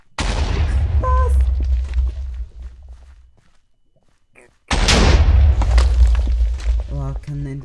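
Thrown exploding meat bursts in a video game: two loud, sustained explosive blasts separated by a near-silent gap, with a crackling tail at the end.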